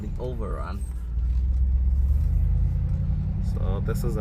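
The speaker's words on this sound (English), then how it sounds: "Get some burbles on the overrun." A 2019 Mercedes-AMG G63 V8 engine drones low and steady while driving, with brief crackling exhaust burbles on the overrun near the start and end, and a voice heard faintly.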